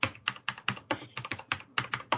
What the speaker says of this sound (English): I'm going to emphasise that I'm typing now.